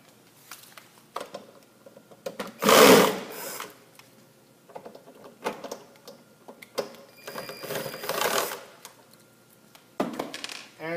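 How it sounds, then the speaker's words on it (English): Screws being backed out of a printer's elevator assembly during a V2 elevator removal, heard as a few short mechanical whirring and clicking bursts, one louder burst near the start and another longer stretch later, with quiet gaps between. "we can remove two screws located in the front underneath."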